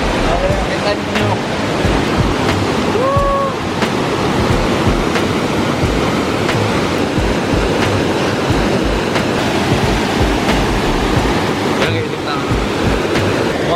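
Rushing water from a waterfall roars continuously and loudly, a dense broadband wash with a brief whistle-like tone early on, no clear speech over it.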